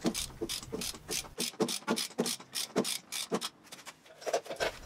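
Ratchet wrench working a stuck nut loose, a long run of sharp rapid clicks in uneven bursts as the handle is swung back and forth, close and fairly quiet with no talk.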